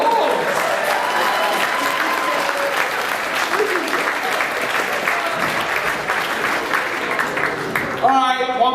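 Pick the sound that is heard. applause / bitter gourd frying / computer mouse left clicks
applause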